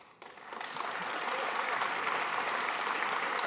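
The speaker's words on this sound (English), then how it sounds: "Thank you to the Hydro One table that clapped for that." Audience members at a table break into applause during a speech about Canadian procurement, the clapping swelling quickly and holding steady and fairly loud throughout.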